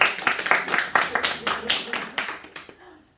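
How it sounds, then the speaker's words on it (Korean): Several rounds of hand clapping from a small group at a social work practicum orientation session, loud and close, rising and falling in uneven bursts before fading out near the end. "그리고 혹시 모르니까 다음 주 마지막인 분 박수 한번 합시다."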